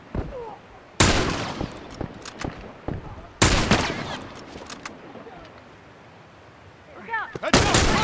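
Rifle gunfire from The Last of Us Remastered, in the Dam Interrogation sequence: loud, sharp bursts of shots at about three points, each followed by quieter game ambience and faint voices in between.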